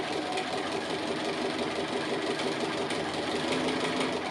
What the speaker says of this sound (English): and again go back on that same line of stitching.